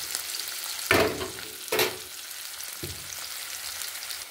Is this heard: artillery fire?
no